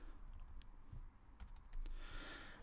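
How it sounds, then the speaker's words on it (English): Quick bursts of typing on a computer keyboard, soft close clicks in short irregular runs with no voices. "And I'm going to type in Sony RX 100"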